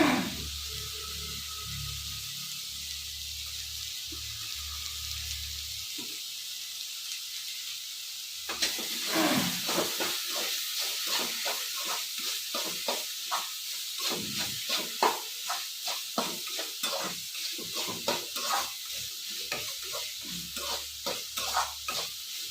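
Bottle gourd with salt and turmeric cooks in a pan: a quiet start, then a sudden loud sizzle followed by a rhythmic run of stirring scrapes over a constant hiss.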